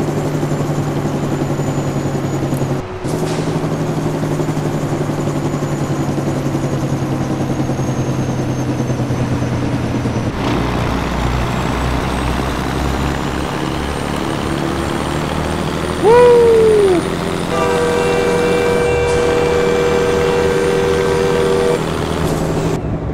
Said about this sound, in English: can you hear the Jake break?